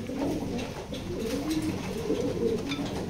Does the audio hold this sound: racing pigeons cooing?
yes